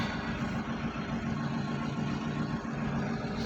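Road traffic on the route from Harij to Bahucharaji, heard as a steady, dense rumble of passing vehicles and engines that continues unbroken with no voices.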